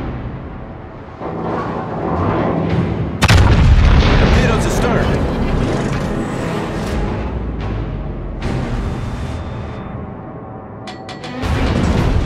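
Concentrated artillery fire on a target: heavy booms and blasts pile up over nearly twelve seconds, with one especially loud hit early on and sharp reports near the end, mixed with rumbling battlefield noise and voices.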